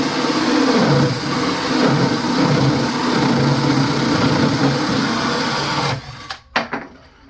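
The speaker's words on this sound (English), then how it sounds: "This is a Craftsman drill, but it's stopping on me." A Craftsman power drill whirs loudly and continuously for several seconds, then winds down and stops with a few clunks as it stalls.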